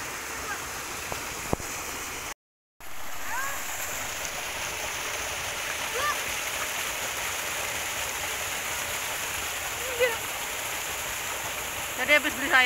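Steady rushing water from a small waterfall fills the scene, constant and broadband, with faint voices murmuring in the background.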